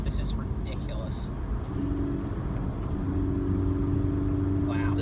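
Inside a 2019 Toyota 86, the engine gives a quick rising blip as it rev-matches on a downshift, loud and close over constant road rumble and cabin drone, with people talking nearby.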